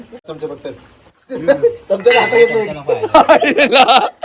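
Washed dishes and spoons clink and clatter against each other in a series of bright, uneven knocks, close by, while people talk over them.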